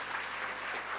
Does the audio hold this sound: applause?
yes